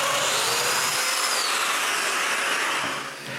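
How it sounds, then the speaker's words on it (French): A domino joiner whirs loudly and steadily close by as it cuts a wide mortise in a wooden board for a bathroom cabinet, one continuous run that eases off at the end, with no talking. "je change donc la largeur de mes trous de domino pour des plus larges, puis je perce les 4 dernières mortaises"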